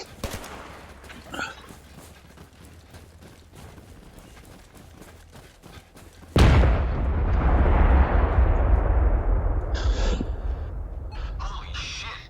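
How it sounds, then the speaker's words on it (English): A huge explosion in the VR shooter Zero Caliber erupts loudly about halfway through, following quieter footsteps and clatter, then rumbles on with a long, heavy decay before fading near the end. "A huge explosion. A few clicks north of your position."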